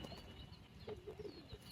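Pigeons kept by a Bengali pigeon fancier coo softly in a short series of low, rounded calls, fairly close, with faint background noise and no talking.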